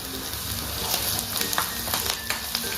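Green coriander sizzles in hot tempering oil, a loud, continuous crackling fry with small bursts of spitting and the scrape of stirring, close and alone without talk.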